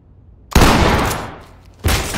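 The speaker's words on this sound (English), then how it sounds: "Use a shotgun on the door, then clear." Two loud, close shotgun blasts fired at a door in the video game Ready or Not, the first with a long booming decay, the second following about a second later.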